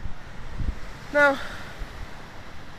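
Gusty wind on the Bournemouth beachfront buffets the microphone with low rumbling bursts throughout, and a person briefly speaks over it.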